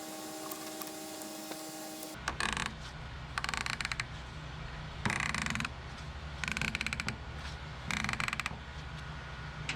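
An extractor tool backs a broken screw out of wood, heard as close, repeated bursts of creaking, grinding ratchet turns separated by short pauses after a quiet hum at the start.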